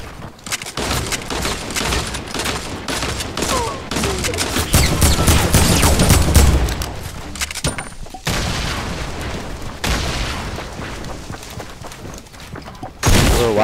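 Gunfire and grenade blasts in a video game firefight: dense, rapid bursts of shots and heavy booms run loud and nearly continuous, swelling mid-way, with a brief pause before a final loud burst.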